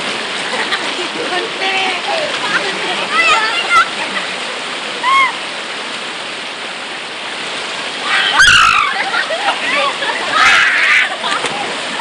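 Water splashes and churns steadily as people bathe in a clear river, with a continuous rushing wash and occasional louder splashes, while voices shout and chatter over it.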